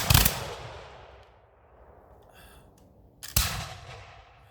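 A volley of black powder muskets fires as a loud, sharp blast that decays slowly through open air, followed about three seconds later by a second crack and rumbling echo.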